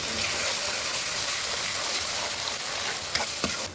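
Onions frying in a pan with four tablespoons of garlic ginger paste for a mixed vegetable sabzi give off a steady, dense sizzle throughout, with a couple of faint clicks near the end and no talking.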